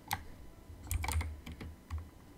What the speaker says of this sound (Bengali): তো আমি এখানে সিম্পলি এন্টার মারবো